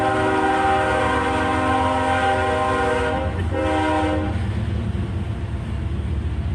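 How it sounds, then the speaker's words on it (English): A train rumbles past with a long, loud, sustained horn blast lasting several seconds, then the steady rolling roar of the cars continues close by, with no voices. "I just stopped talking because there was a train going by."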